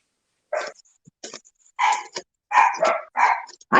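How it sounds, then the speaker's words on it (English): A dog barks in a close, loud string of sharp barks and yips with short gaps between them, with no talking. "dogs just will not stop barking."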